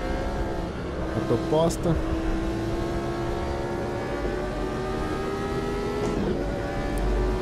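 A Formula 1 car at Interlagos in the Automobilista simulator drones steadily under acceleration, its engine whine shifting in pitch. Someone speaks briefly over it.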